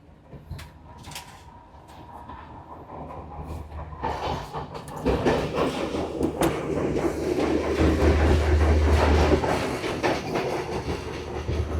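A passenger train travelling from Colombo to Galle in Sri Lanka rumbles steadily, with rhythmic clacking of wheels and carriage rattles that grow louder and denser over time, heard from inside a car.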